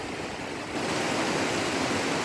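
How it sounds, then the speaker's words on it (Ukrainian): A mountain stream flows near a footbridge in Zakarpattia, a continuous loud rushing of water that swells a little after the first second and then stays steady, with no voices. "он струмок такий тече гарний"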